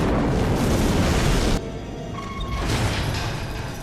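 A house blows up in a scene from the film Batman Begins: a loud, roaring blast and rumble that cuts off abruptly, then lower rumbling debris and crackle with a second swell of noise.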